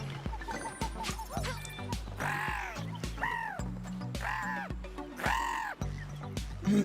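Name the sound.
angry bird cawing in Super Lucky's Tale video game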